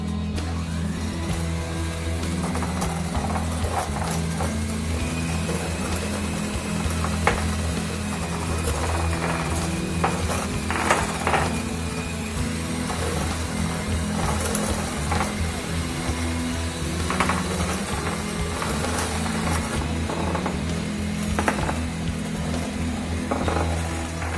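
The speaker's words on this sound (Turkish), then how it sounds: "4 yumurta sarısının üzerine bir su bardağı şekerimizi ilave edip kar beyaz olana kadar çırpıyoruz" Four egg yolks and a cup of sugar are whisked until pale, likely with an electric mixer: a loud, steady motor drone with scattered scraping ticks runs throughout, with no one speaking.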